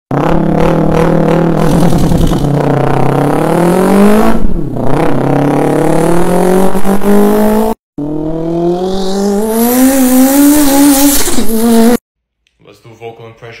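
A human voice imitates Subaru and Mitsubishi Evo rally cars revving, giving loud buzzing engine tones that climb and dip in pitch, two separate bursts broken by a short pause.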